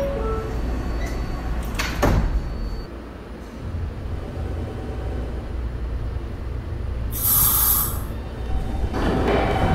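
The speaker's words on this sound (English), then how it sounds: "Stand clear of the closing doors" R160 subway train doors slide shut with a rumbling thud over a steady hum of the train interior, followed by a high chime.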